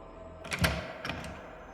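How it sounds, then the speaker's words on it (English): A door is pushed open as a sound effect in an audio story, giving a short creak and clunk with a couple of quick knocks over a quiet room hum. "When you push open the door"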